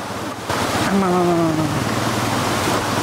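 A river stream flows as a steady broadband rush close by, with a brief tonal whine in the first second; no talking.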